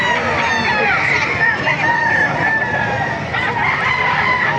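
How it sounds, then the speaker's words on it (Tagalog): Chickens and roosters crowd a busy poultry market in Baliuag, Bulacan, with several cocks crowing and hens clucking over steady market chatter and background voices throughout. "Maraming manok kayo dito sa Baliwag"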